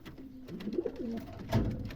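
Pigeons in a dovecote give low, throaty coos, a couple of soft rolling calls close by amid quiet background rustle.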